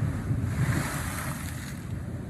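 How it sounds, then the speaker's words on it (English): Sea waves crash in against a sea wall on the coast at Overstrand, making a steady, loud wash and roar mixed with buffeting wind noise on the microphone, with no voices. "Bloody hell, the sea's crashing in off this wall."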